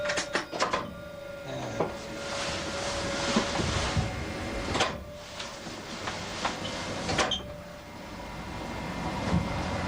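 A Class 205 diesel-electric multiple unit runs between Hastings and Ashford, a steady rumbling drone with periodic clanks and rail joint knocks, close and continuous throughout.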